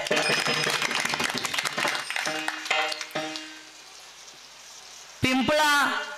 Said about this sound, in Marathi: याच्यासाठी प्रथम आपण एकदा जोरात टाळ्या द्या